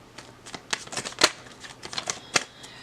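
Tarot cards are shuffled in quick riffling bursts, close and crisp, with light flutters and taps and no voice over them.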